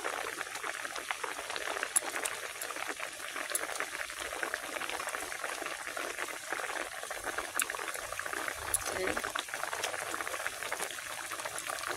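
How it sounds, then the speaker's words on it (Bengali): A pot of sour curry with amrul greens, with fish going in, bubbles at a steady, dense boil, producing a constant close-up hiss and gurgle for the whole stretch with no voices. "এবার মাছগুলো দিয়ে দেবো।"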